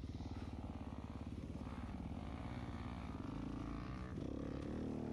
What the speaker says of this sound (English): I hear my bike. Yeah, see, there it dies.